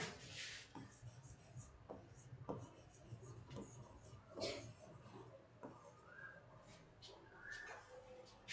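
A pen writes a notice by hand on paper, soft intermittent scratching strokes close by, faint under a voice talking.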